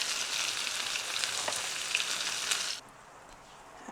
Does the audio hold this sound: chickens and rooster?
no